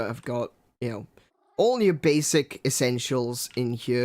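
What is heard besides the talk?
cat purring and meowing in the video game Minecraft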